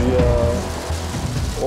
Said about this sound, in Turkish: aracı şu anda dolu yağıyor ve ben hiçbir şey yapamıyorum